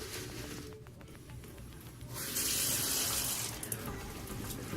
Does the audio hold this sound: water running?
yes